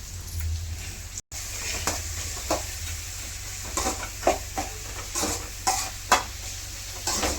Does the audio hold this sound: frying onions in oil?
yes